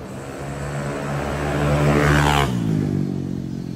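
A motorcycle passes by on a street, its engine hum rising to a peak near the middle and then dropping in pitch as it moves away, loud and alone with no talk.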